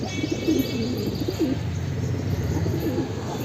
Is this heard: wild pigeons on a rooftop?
yes